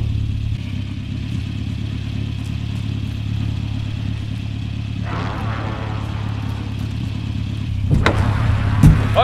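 Car being driven in the video game Call of Duty: Modern Warfare, a steady low engine drone running throughout with a clattering bump and brief louder noise near the end.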